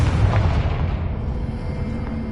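A fiery Confringo blast spell in the Hogwarts Legacy game sets off a deep, rumbling explosion. The boom hits hard at the start, then rolls on as a long, loud low roar.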